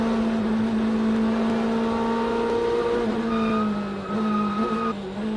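Race cars in GTD traffic at the Rolex 24 Hours at Daytona, including the Corvette Z06 GT3.R, roar past with a loud, sustained engine drone whose pitch falls slightly as they sweep by, with no talking.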